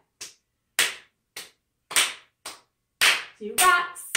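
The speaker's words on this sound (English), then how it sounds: "Clap first and then slap." Hands clap and slap in a rhythmic clapping game, sharp smacks coming in evenly spaced pairs, close and loud, with a brief sung voice near the end.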